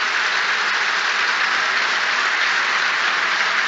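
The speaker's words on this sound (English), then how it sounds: "This is a minute's applause" A football crowd at a Carlisle United versus Stockport County play-off final gives a minute's applause in tribute, a steady, dense wash of clapping from the whole stadium with no voices rising above it.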